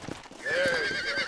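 A horse in Red Dead Redemption lets out a loud, close whinny that swells midway and holds bright and strained to the end, after a few muffled thuds.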